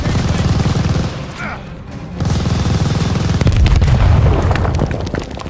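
Call of Duty Vanguard battle where a grenade hits a machine gun nest, with loud booming explosions and rattling bursts of gunfire that dip briefly in the middle before surging again.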